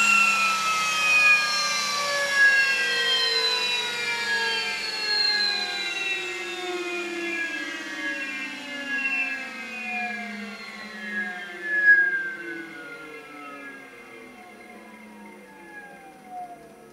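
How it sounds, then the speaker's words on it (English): EMRAX 228 electric motor with grooved, drilled rotor spinning down from about 3,000 RPM, a steady loud whine of several falling tones that slowly glide lower over seventeen seconds with no voices. "the grooves and holes on the rotor make a lot of noise when the motor is spinning"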